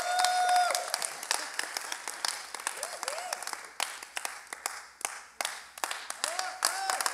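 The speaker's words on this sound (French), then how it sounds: "Est-ce qu'on peut applaudir Stéphanie Gendron?" Audience applause for a pianist, sparser and more scattered than a full ovation, with individual claps distinct, fading and swelling again, while voices murmur and call out underneath.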